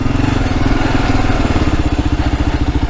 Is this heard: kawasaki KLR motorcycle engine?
yes